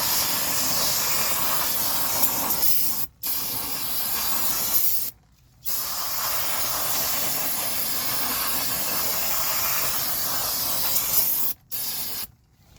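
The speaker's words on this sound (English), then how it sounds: "Alright, so get some brake spray." Loud, close bursts of aerosol brake cleaner spraying onto Honda Civic drum brakes hiss in long continuous blasts, broken by a few brief pauses between sprays.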